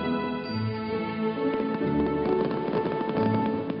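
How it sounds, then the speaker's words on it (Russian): Artillery salute volleys fired in Moscow in honour of the liberators of Orel and Belgorod, a burst of booms and crackling bangs over a dense orchestral backdrop, loud and continuous. "Прозвучали залпы первого салюта Великой Отечественной войны в честь освободителей Орла и Белгорода."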